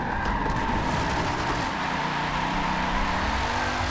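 Race car in Forza Motorsport 7, driven with a wheel, roaring steadily at high revs with tire noise for about four seconds, loud and continuous with no talk over it.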